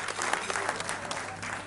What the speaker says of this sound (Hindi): जोर से तालियां तालियां तालियां